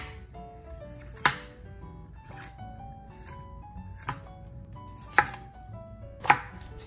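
A knife chops through bamboo shoots on a board, trimming off the hard parts: a handful of sharp, irregular thunks spaced about a second apart, close and clear over quiet background sounds.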